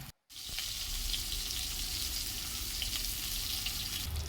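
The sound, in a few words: chicken leg pieces deep-frying in oil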